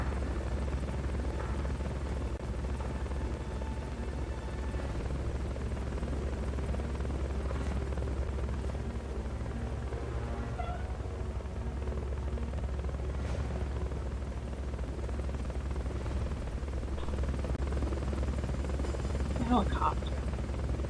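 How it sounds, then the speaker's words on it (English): A helicopter in Metal Gear Solid: Peace Walker drones continuously with a low, steady rotor thrum that lasts throughout. A voice talks faintly over it at times. "Helicopter."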